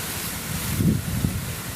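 Wind blowing against the microphone on a riverbank, a low rushing roar with a brief stronger gust near the middle.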